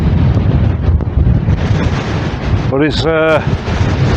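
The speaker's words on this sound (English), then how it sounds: "Once again, this wind should be dropping down" Strong wind buffeting the microphone while camping on an exposed edge in the Peak District, a loud continuous rumbling roar throughout, with someone briefly speaking over it near the end.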